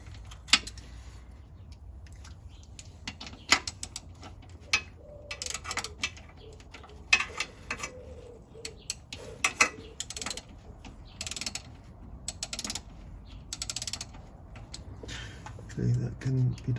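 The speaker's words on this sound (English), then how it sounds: "I'll ratchet on to loosen," A hand ratchet works the transmission filler bolt loose on a classic Fiat 500, giving scattered dry clicks and short runs of ratcheting, close up, with occasional talking.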